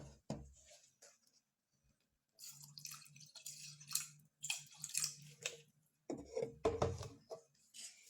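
Milk poured into flour and butter in a pan for lasagne makes intermittent splashing and dripping bursts over a steady low kitchen hum, close and moderately loud, with no voices.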